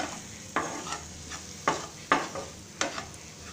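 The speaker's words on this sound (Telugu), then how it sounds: "అంతా బాగా కలిసేలాగా కలుపుకోవాలి." Cabbage fry with crushed garlic stirred in a pan, a utensil scraping and clinking in four or five distinct strokes over a steady close sizzle of frying.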